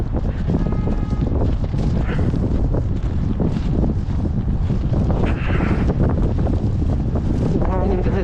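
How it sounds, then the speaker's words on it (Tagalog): Cold wind blowing across a parking lot in Canada, loud and constant, buffeting the microphone with a deep, roaring rush and occasional louder gusts. "Yung hangin kasi talaga yung nagpapalamig."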